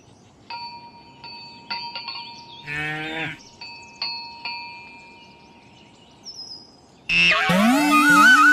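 A cartoon cow gives a long, loud mooing call alone near the end, after a run of synthetic chimes and short tonal effects.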